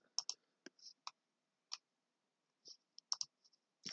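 A computer mouse clicks in a quiet room while a 3D model is built, a series of sharp, close, faint clicks, some in quick pairs, spaced irregularly with silence between.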